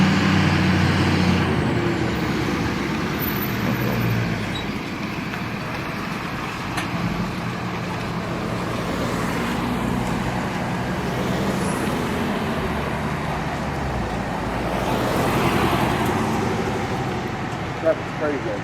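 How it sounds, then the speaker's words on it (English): Busy street traffic with trucks and cars passing, a continuous roar of engines that swells and fades as vehicles go by, with an occasional air-brake hiss, close and steady. "Traffic's crazy. I know it's ridiculous out here, but it's traffic."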